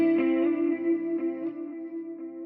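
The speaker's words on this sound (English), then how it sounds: "The delay's a little much for my taste." Sustained electric guitar tone from a Quad Cortex preset, drenched in heavy delay and effects, with repeats smearing each note into a dense, wet wash that stays steady and fairly loud throughout.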